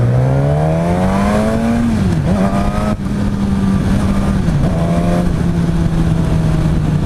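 A 2016 Suzuki GSX-S1000 motorcycle on a test ride, its engine droning loud and steady, rising in pitch, easing briefly on gear changes, then climbing again under heavy wind noise.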